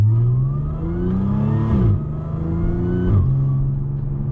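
An Audi S4/S5/SQ5 with the 3.0T engine revs in two sharp bursts, each climbing and falling quickly, loud and close over a steady idle.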